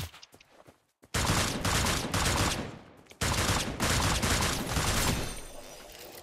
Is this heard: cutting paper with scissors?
no